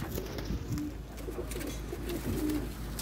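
Pigeons coo softly and repeatedly at close range, low throaty calls recurring over a steady background hum.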